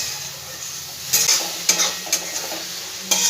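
Ginger paste and spices frying in hot oil while being stirred, with a steady soft sizzle throughout and a few sharper scrapes and clinks of the spoon against the pan.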